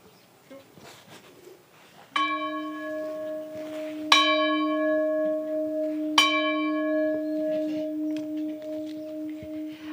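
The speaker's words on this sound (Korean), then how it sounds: "종을 잘 치시네요. 종소리 정말 아름다운데" A church bell at Gwangju Samdo Church, a congregation over a century old, strikes three times about two seconds apart. Each clear, ringing stroke lingers and overlaps the next, with faint outdoor ambience and a few bird chirps behind.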